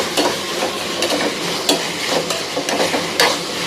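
Tomato and onion masala frying in a pan for egg gravy, a steady sizzle under repeated spatula stirs and scrapes that come every second or so, close and fairly loud, with no speech.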